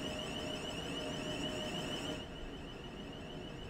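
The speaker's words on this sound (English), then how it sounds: "It does sound like a burglar alarm." Train alarm buzzer in Train Sim World 4, a steady electronic tone that holds for about two seconds, then drops away, leaving a quieter, continuous mechanical hum. No one speaks.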